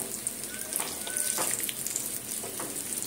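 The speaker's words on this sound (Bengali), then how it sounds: "এইভাবে ঘুরিয়ে ফিরিয়ে সুন্দর করে ভেজে নেব।" Poha (chira) pakoras frying in hot oil give off a steady, dense sizzle with soft bubbling, close up and continuous, with faint stirring clinks and no talk.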